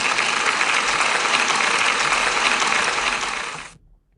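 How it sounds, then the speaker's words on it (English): Applause for a pupil's self-portrait at a school celebration assembly, a dense, steady wash of clapping from a crowd that carries on for several seconds before stopping abruptly. "So Elsa, you deserve a big round of applause for your self-portrait"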